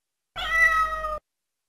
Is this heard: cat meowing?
yes